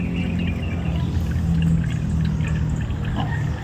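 Water pours steadily out of a cut banana trunk in a continuous close gush, a constant rushing flow with no pauses.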